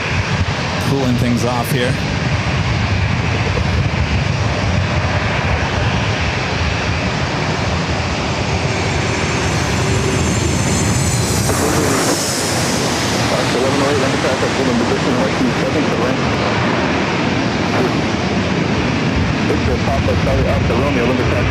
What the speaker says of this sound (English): Next arrival is the United flight coming in from Newark, flight 1826, the 737 and MAX 8.